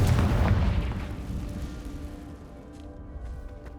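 A Confringo blasting curse explodes in the Hogwarts Legacy video game, a loud booming burst up front that fades into a rumbling decay with a low hum beneath.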